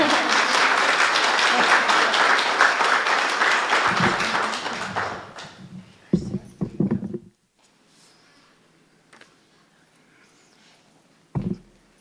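Wedding guests applaud after the vows at a farmhouse venue, a loud sustained burst of many hands clapping that fades out by mid-clip, followed by a few scattered claps and quiet shuffling.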